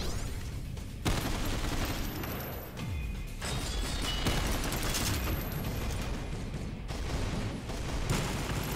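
Turrets blast away in the shooter game Synthetik 2, loud rapid bursts of gunfire and crashing impacts rattling on almost continuously.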